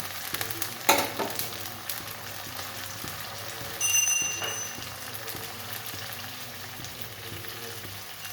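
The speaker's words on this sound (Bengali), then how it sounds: "জল দিয়ে দিচ্ছি, সামান্য জল দিলাম এগুলো সেদ্ধ করার জন্য" Lentils for dal sizzle and fry in a pan after a little water is poured in, a steady crackling hiss with a sharp splash-like burst near the start and a brief clink partway through.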